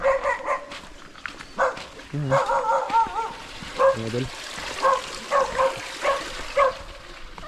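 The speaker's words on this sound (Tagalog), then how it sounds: "May aso" A dog barks in short repeated bursts, several sharp yaps spaced out over the clip, fairly close, while someone talks between them.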